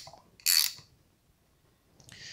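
A Yamaha Banshee two-stroke engine is turned over by hand while crushing solder for a squish check, giving a short bright mechanical ratcheting click, then quiet, then a second fainter click near the end.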